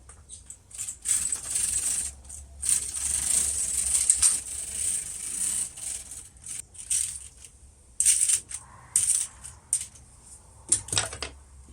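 A 1950s knitting machine carriage running in short mechanical bursts, with clicking and ratcheting needles and rattling parts, pausing between passes, close and fairly loud.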